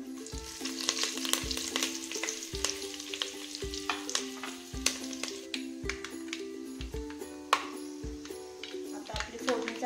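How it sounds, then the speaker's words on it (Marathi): Curry leaves crackling in hot oil as tempering for mutton dalcha, giving dense rapid pops and sharp snaps over a continuous close sizzle, with a steady tonal hum underneath. "आता आपली फोडणी चांगली तडतडली आहे."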